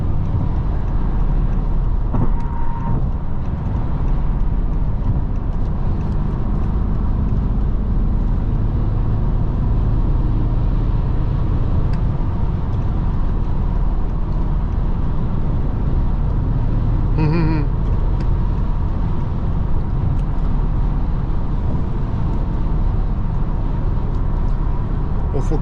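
Steady, loud engine and road rumble from a 2005 BMW 645Ci accelerating on partial throttle, a continuous broadband drone that holds throughout with a voice speaking over it.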